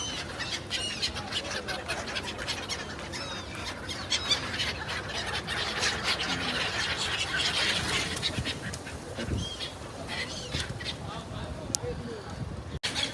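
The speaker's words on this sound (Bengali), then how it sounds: "অনেকগুলা পাখি এখানে।" A large flock of birds, with chickens among them, feeds outdoors by a road, heard as a dense, continuous chorus of chirps, squawks and clucks at moderate loudness, with occasional knocks and clatters.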